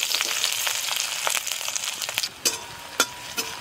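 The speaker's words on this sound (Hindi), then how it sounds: "सरसों का तेल डाल देते हैं एक चम्मच, यहीं पे तड़का डाल देते हैं" Spices sizzle and crackle in hot mustard oil, a steady hiss broken by sharp pops, with a few louder spatters near the end.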